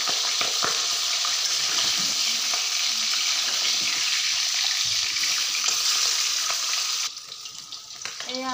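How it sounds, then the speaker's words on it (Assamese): Fish fries in a pan with a loud, continuous hiss of sizzling oil and occasional stirring scrapes. Near the end the sizzle drops noticeably softer and lighter crackles take over. "এয়া আমাৰ মাছ ফ্ৰাই কৰা হৈ গ'ল।"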